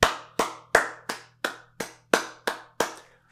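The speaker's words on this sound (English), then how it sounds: "That's what I call a round of applause" About nine slow, evenly spaced hand claps from a single person, close and ringing briefly in a small room over a low steady hum, with no voices.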